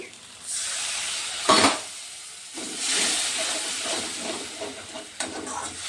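Chili powder and spices, including Kashmiri chili powder, sautéing in a pan for Bengali rui fish curry, a steady sizzle and hiss with spatula scrapes and a louder burst of spitting where water hits the hot oil.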